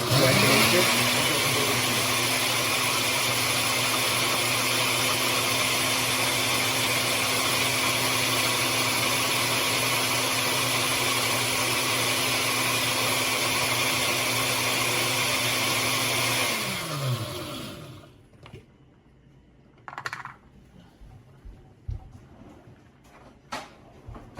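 A blender blitzes scallop puree on high, a loud steady whirring roar running for about seventeen seconds before cutting out, followed by a few faint clicks and knocks.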